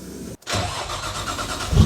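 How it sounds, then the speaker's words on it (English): A tuned 700bhp Nissan Skyline R33 cranks and fires after a fresh clutch install, a short pause giving way to a loud, rumbling idle close by with a low swell at the end. "Let's start the car up."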